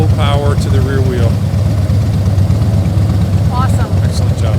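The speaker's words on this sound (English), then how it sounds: "he's revving it too much. Oh, it's scary with the revving." Motorcycle engine revving hard at full power, driven by a rider named Michael practicing slow-speed drills, a loud continuous droning roar with a steady pulse and brief pitch rises, close by.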